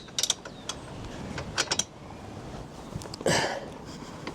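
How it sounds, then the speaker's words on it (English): A wrench loosens the rear axle on a Honda CB125F motorcycle during a chain and sprocket change. There are close metallic clicks and ratcheting taps, then one short louder grinding creak near the end. "Just have to loosen up the axle to do this."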